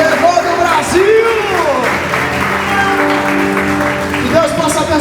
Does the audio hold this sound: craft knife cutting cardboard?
no